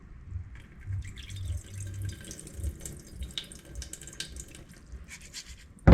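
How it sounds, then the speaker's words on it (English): Hot tap water runs into a pot of rice, a continuous splashing stream with dripping, fairly close and steady, ending in a sudden loud knock. "I'm going to do a bit of a hot water rinse just to help preheat the rice in the"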